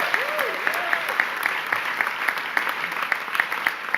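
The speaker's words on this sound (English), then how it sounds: "Give her a round of applause," A crowd applauds Governor Kathy Hochul at a hospital announcement in Western New York, steady clapping throughout with a brief whistle-like tone near the start.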